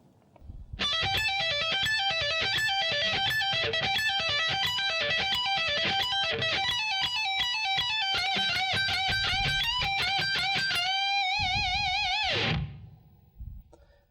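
An electric guitar plays a lick, with a bend repeated three times. The tone is bright and distorted, and quick notes run continuously before a final bent note fades out, loud and alone.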